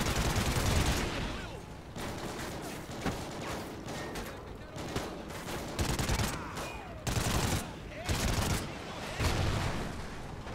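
Rapid bursts of gunfire and explosions in the video game Call of Duty: Ghosts, dense and loud with repeated volleys and brief lulls, under a busy game mix.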